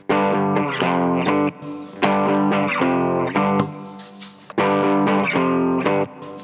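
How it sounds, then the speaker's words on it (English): A heavily distorted electric guitar strums chords in rhythmic bursts, loud and gritty, with short pauses between phrases, playing a song. "there's some distortion, that sounds like"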